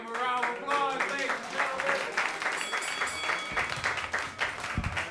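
Comedy club crowd at a roast battle in New York breaking into applause, with clapping and cheers over a voice talking through the noise, ending in a few louder close claps.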